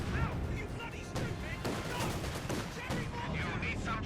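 Rapid bursts of Vickers machine gun fire and other battle shots in the World War II strategy game Company of Heroes 2, dense and continuous with explosions mixed in.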